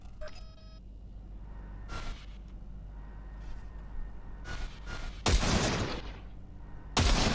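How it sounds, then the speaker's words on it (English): Short bursts of gunfire at a shooting range in Cyberpunk, a few loud rapid volleys separated by quieter pauses, with faint clicks and game sounds between them. "See that pile of junk? Fire a short burst into it."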